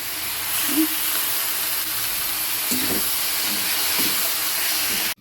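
Washed masoor lentils land in a hot pan with onions, setting off a loud, steady sizzle that hisses continuously before cutting off abruptly.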